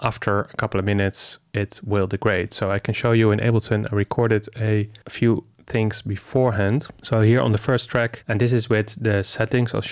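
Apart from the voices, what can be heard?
None of the usual background noises is heard.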